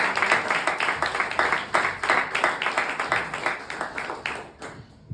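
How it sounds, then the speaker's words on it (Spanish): A church congregation claps during a sermon, producing a steady burst of rhythmic, moderately loud applause that tapers off and stops near the end. "Todo el aplauso para el Señor."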